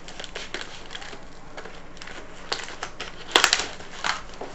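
Scissors cut through tape and plastic packaging on a USB condenser microphone box, giving soft crinkling snips followed by a sharper cluster of crackling cuts near the end.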